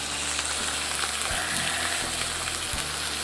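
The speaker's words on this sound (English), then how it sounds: "listen to that sizzle." Meat sizzles loudly and steadily in a hot pan, a constant crackling hiss with a few faint clinks, no voices.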